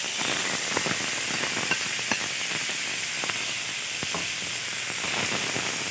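Marinated chicken frying in hot oil, a steady dense hiss and sizzle with scattered small pops and crackles, continuous and fairly close, with no talking.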